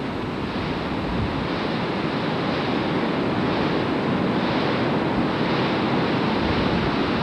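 A river flowing outdoors on a 1988 California trip, a loud, continuous broadband rush of water mixed with wind buffeting the microphone, with no voices.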